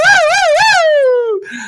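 A voice mimics a police car siren up close: a loud, wavering wail that rises and falls three times, then glides down and fades into a brief murmur.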